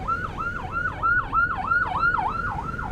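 Ambulance siren wailing in a steady up-and-down cycle on an Indonesian road, heard clearly and continuously with faint traffic rumble beneath.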